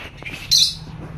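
A single sharp, close squawk from a pet bird in a new colony cage, bursting out briefly over faint background noise.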